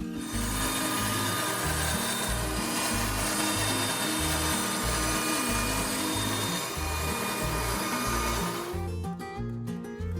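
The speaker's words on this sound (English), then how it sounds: "I bring them back to the workshop to trim them on the bandsaw" Bandsaw cutting wooden cabinet trim pieces makes a loud, steady mechanical whine with a rasping cut that keeps going without a break, then thins out at the very end; nobody speaks.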